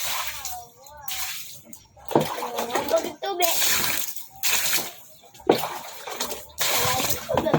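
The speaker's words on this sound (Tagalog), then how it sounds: "washing na yan namin yung loob ng bahay" Water splashes and sloshes repeatedly as the inside of a house is washed after flooding, in bursts close by, mixed with people and someone talking.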